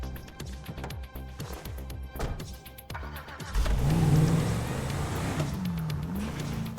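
A car engine in GTA 5 revs hard and climbs in pitch, loud and close, as the car is driven back to the dealership. Background game sound runs underneath the engine.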